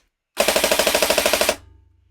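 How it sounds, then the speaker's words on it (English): An airsoft replica gun with a stock gearbox fires on full auto, a loud steady burst of about fifteen evenly spaced shots lasting just over a second, followed by a fading mechanical whir. "So for example, we're now on auto."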